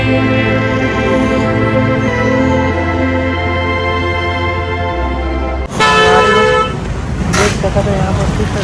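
Car horns blare in a traffic jam in Raipur, one long sustained honk followed by sharper overlapping toots close by, with people talking through it.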